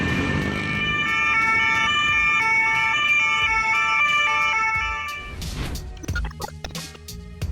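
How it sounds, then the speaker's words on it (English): An ambulance siren in Poland wails continuously over passing traffic, then cuts off, leaving a few clattering road noises behind. "when accompanied by a police caravan, the sirens are always more convincing"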